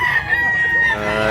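At a Cebu Tabunok fowl market, a rooster lets out a long, sustained crow, loud and near, with a faint clucking and general market bustle underneath.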